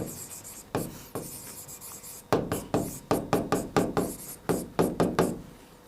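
A pen or marker writing out a Class 10 trigonometry problem, close and distinct, with scratchy strokes and a quick run of sharp taps in the second half, and no talking.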